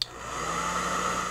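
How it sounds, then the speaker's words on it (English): A hairdryer runs steadily after a brief click at the start, a continuous close whirring hum with a constant airy whine, alone and without talk. "picked up the hairdryer"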